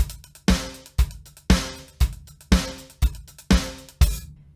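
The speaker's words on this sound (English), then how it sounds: "Here's how you play a really good 16th note groove" A 16th-note disco drum groove sounds close and punchy, with kick and snare on the beats, bright open hi-hat washes and fast closed ticks in between, alone without talk.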